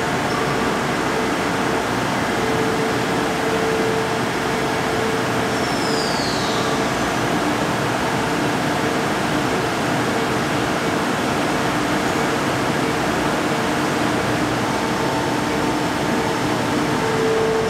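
An air conditioner runs in a warm workshop, a loud, constant broadband whoosh and hum that fills the whole stretch without change, with a faint brief whistle partway through and no talking.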